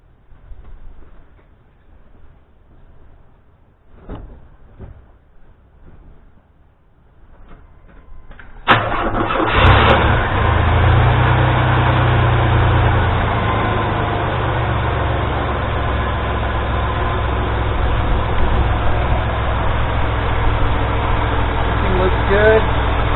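A Chevy C1500 OBS pickup engine fitted with new pulleys and a belt. A few quiet clicks and knocks come first, then the engine cranks and fires abruptly and settles into a loud, steady idle that runs to the end.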